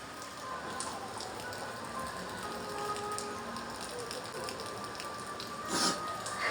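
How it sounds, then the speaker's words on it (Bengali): Steady rain falls outside in a broad, even hiss with scattered drop patter, continuous and fairly close, with no voices. "এখন আবার বৃষ্টি।"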